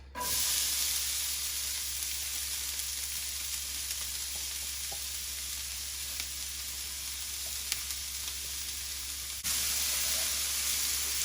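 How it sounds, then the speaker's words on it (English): Onions hitting a hot skillet and sizzling in a steady, even hiss that carries on throughout, close and moderately loud, with a few small pops and clicks and no one talking. "now that we got our skillet nice and hot, let's go ahead and add our onions"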